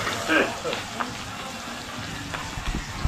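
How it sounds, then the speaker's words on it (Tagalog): Onion and garlic sauté in Star margarine with a steady close sizzle and occasional stirring clicks, while a voice talks over the frying. "At sinunod ang sibuyas at bawang. Masarap kasi yung mga takbo pag ginisa mo sa star margarine."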